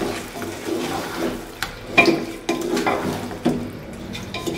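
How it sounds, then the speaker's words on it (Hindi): Chicken for biryani fries and is stirred in a pot over high heat, a spoon scraping and clanking against the metal in irregular knocks over a soft sizzle, close and moderately loud with no voices. "तो इसे हम उस वक्त तक भूनेंगे जब तक कि हमारे चिकन का कलर वाइट ना हो जाए तेज आंच में।"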